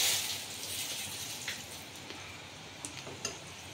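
Panch phoron spices, dry red chillies and bay leaf fry in hot oil for a fish onion curry. A steady, close sizzle and crackle runs throughout, with a few sharp pops from seeds bursting. Nobody speaks.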